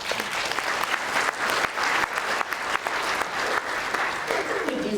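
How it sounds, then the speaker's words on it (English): Sustained audience applause fills an opening ceremony hall at an English language teaching symposium, a dense steady wash of many hands clapping, fairly loud throughout and carrying on alone. "Give it a big round of applause."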